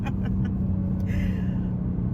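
A tuned 2023 BMW M4 G82 with a JB4 tune pulls hard from inside the cabin, a deep, loud, steady engine rumble filling the space with faint clicks and a brief higher whine over it.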